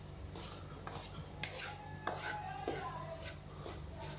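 A spoon scrapes and stirs semolina roasting in ghee in a pan, soft repeated rubbing strokes at an irregular pace, close but faint, with no talking.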